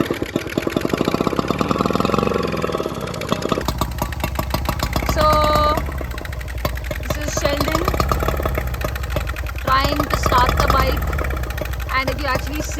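An old 1.5 bhp motorbike engine thumps and putters close by in a rapid, uneven beat, revving up and down as the rider works clutch and throttle, with voices talking over it.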